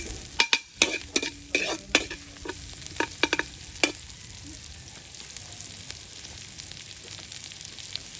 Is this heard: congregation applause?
no